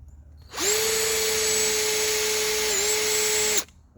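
Harbor Freight Bauer hammer drill spinning up and running at steady speed for about three seconds, a loud close high whine with a brief dip near the end before stopping abruptly.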